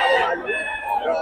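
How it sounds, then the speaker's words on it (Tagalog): A rooster crows once, loud and close, with a long, strained call that dominates the short moment, among the fighting roosters of a gamecock breeder. "Yung mga manok ni Boss Gaga mga idol"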